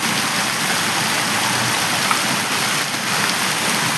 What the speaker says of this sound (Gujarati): 30 મિનિટમાં 4 ઇંચ વરસાદ પડી ગયો છે અને હજી ચાલુ છે.